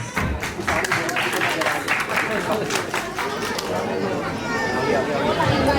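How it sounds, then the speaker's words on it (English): An audience at a school annual event claps for students in a dense burst of applause that thins out into crowd chatter and murmuring voices. "Give a big round of applause for these students"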